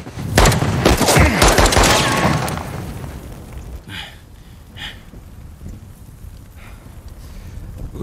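Gunfire in Uncharted: The Lost Legacy, a dense loud burst of rapid automatic shots and booms that fades into wind-like rumble with a few scattered distant shots afterward.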